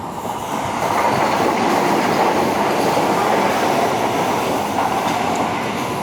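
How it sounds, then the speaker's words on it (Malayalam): Vande Bharat Express between Mangaluru Central and Thiruvananthapuram Central rushing past, a loud sustained rumble of wheels and carriages that swells quickly and stays close and heavy to the end. "Mangaluru central Thiruvananthapuram central Vande Bharat express."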